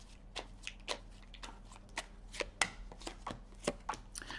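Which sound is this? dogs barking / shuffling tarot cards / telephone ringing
shuffling tarot cards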